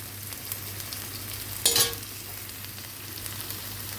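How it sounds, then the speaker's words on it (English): Garlic and onions sautéing in a pan, a steady low sizzle with a faint hum beneath and one brief louder scrape of stirring midway, close and alone without speech. "So let's continue sautéing"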